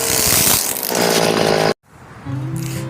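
A Stihl FS 250 string trimmer runs close by, its small two-stroke engine buzzing loudly, then cutting out briefly before idling back up at a lower, rougher pitch.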